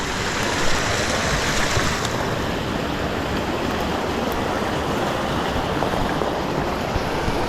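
A creek on the Tahoe-Yosemite Trail rushes steadily, a broad and constant close-up water roar with no pauses and no voices.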